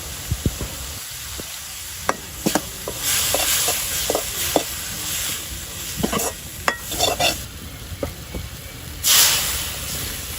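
Fish frying rustic village style in a pan with turmeric, spices and water, sizzle and hiss under repeated scraping stirs and clinks of the utensil, with a louder burst of steam near the end.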